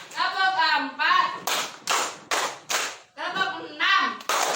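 Children clap together in a counting clap game in a primary school classroom, a series of sharp group claps alternating with an adult's chanted counting.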